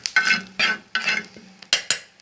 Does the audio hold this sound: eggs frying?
yes